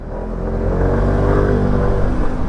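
A Suzuki Burgman 150 scooter accelerating on a test ride, a steady close engine drone with a rising whir that holds loud for the full stretch, with no talking.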